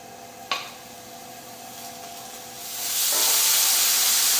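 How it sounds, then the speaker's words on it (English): Bacon cooking in a pan on a stovetop, a steady soft hiss that swells louder and broader partway through, with a brief sharp click near the start. "The bacon is cooking away really nicely"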